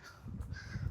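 A crow caws once or twice close by on a quiet farm near Rajkot, short harsh calls over a faint low background with no one speaking.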